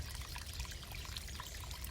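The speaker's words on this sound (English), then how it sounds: "Here's where the water is coming. A little trickle into this first pond." A small stream trickles into a pond outdoors, a soft, steady splashing and gurgling that stays faint and continuous throughout, with no one talking.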